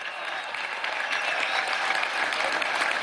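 A crowd at a Venezuelan political event claps enthusiastically, a dense steady burst of applause that swells slightly over a few seconds.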